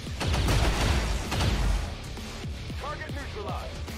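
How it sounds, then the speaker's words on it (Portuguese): Gunshots in the video game XCOM 2: War of the Chosen, a couple of heavy bursts of gunfire with a booming low rumble, followed by softer mechanical clicks and whirs, with people talking over it. "Ela dá dois tiros."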